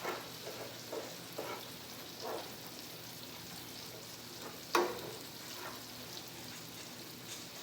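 Cheese is stirred into a sizzling pan for a low-carb steak dinner. A steady frying hiss runs throughout, with soft periodic stirring scrapes and one sharper clank midway.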